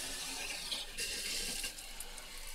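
Water runs steadily from an outdoor garden tap in an allotment garden, a continuous hiss with a few small splashes and knocks, close and fairly quiet.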